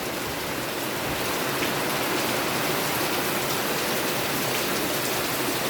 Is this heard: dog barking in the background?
no